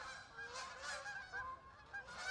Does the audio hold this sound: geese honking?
yes